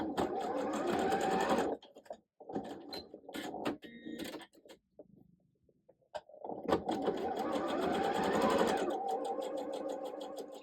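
A sewing machine runs in sustained rapid bursts, stitching quarter-inch lines on both sides of a seam for a zipper bag, with short pauses between runs and a longer steady run at the end.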